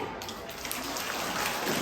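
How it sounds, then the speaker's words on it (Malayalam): Children at a St Thomas UP School entrance-day celebration applaud in a brief burst of dense, rain-like patter, fairly close and steady. "നല്ലോണൊരു കൈയടി ഇവർക്ക് കൊടുത്താട്ടെ."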